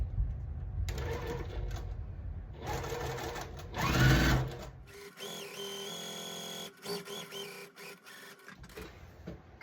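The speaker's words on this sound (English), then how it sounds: "I'll go ahead and sew on the line" A sewing machine whirs in quick, rapid bursts of stitching, stopping and starting several times, close and fairly loud with brief pauses between runs.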